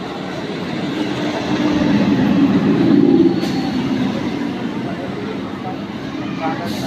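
A train rolls past in front of a railway station platform, a loud broadband rumble that swells toward the middle and eases off, with faint voices in the background.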